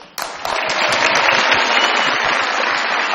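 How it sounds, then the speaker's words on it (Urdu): A studio audience at a Pakistani comedy talk show bursts into sustained applause, a dense, even wash of clapping that starts suddenly and carries on alone. "بہت ساری تالیوں میں ہم ان کو ویلکم کہتے ہیں."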